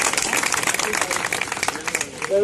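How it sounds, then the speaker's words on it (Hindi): Audience applause at a community gathering in honour of trust office members, a dense steady patter of many hands filling the whole stretch at moderate distance, with a brief voice or tone surfacing near the end. "आज हमारे बीच में दिनेश भाई और अब्दुल रहमान भाई के ट्रस्ट ऑफिस से इनके लिए जोरदार तालियां हो जाए"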